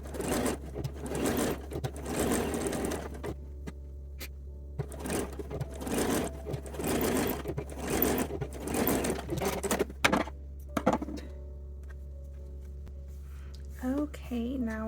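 A sewing machine top stitching a seam runs in repeated stitching bursts of a few seconds each, separated by pauses, under a steady low hum. Handling noises and brief talk come in near the end.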